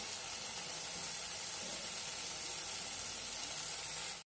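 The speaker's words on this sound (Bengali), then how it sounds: "সিদ্ধ আলুটাকেও মশলার সাথে একটু আমি ভেজে নেব" Mashed boiled potato frying with spice masala in a pan, giving a continuous soft hissing sizzle, close and even for the whole stretch.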